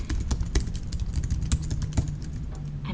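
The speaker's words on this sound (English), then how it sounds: "I'm typing it very quickly," Rapid, steady typing on a computer keyboard, a dense run of close, crisp key clicks with no pauses, heard alone without talk.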